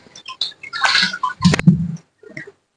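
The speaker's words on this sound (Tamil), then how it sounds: "நல்லா அரிசியை நல்லா கழுவி சுத்தமாக ஒரு அரிசி கூட வேஸ்ட் ஆகாம இருத்து நம்ம வச்சுக்கிடுவோம்" Rice is washed by hand in water for tomato rice, with close splashing and swishing in short bursts separated by brief pauses.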